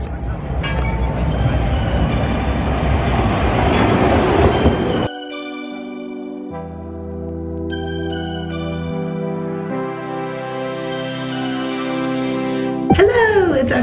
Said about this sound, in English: the entire road is like for trams